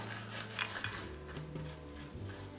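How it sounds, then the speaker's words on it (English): Spoon stirring diced ham into a breakfast casserole mixture in a dish, soft scraping and light clinks against the pan, faint and close, with no talking. "just stir it around a little bit and try to get that ham all mixed in"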